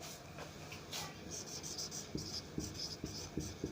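A pen scratching across paper in short close strokes, with faint taps, quiet and steady with soft room noise behind.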